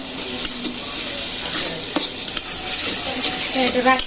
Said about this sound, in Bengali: মশলাটা একটু ভাজা ভাজা করা হচ্ছে এখন।